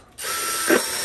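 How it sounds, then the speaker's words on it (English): A DeWalt power drill whirs up sharply and runs steadily as it bores holes into a plastic container, loud and close, with no talk. "I'm going to drill, you know, some holes in here so it can drain."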